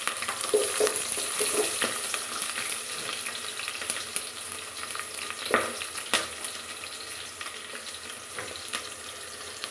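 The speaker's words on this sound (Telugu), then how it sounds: "ఆయిల్ హీట్ అయిందండి ఇప్పుడు పచ్చిమిర్చి నెక్స్ట్ ఆనియన్స్" Green chillies and onions sizzle in hot oil in a home kitchen pan, a continuous close crackling fry with occasional stirring clicks and scrapes, no voices.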